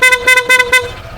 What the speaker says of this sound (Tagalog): Meron naman siyang busina, kaya lang, talagang sobrang hina lang niya kumpara dun sa dati.